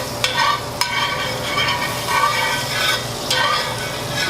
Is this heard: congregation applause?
no